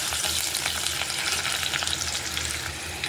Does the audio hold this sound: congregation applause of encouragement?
no